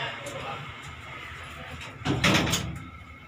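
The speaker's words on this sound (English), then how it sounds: "Close door." Fuji elevator door at Blok 350, Gat Lebuh Macallum in Georgetown, Penang, sliding shut in one burst of rumbling motion near the end, after a stretch of quiet hum with faint background music.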